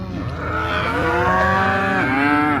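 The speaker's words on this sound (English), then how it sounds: "All right, the gate has been opened for us and the cows are coming." A herd of cattle comes through an opened gate on a grass-fed family ranch, with several loud, drawn-out moos overlapping close by.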